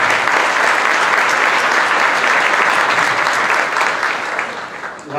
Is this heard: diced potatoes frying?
no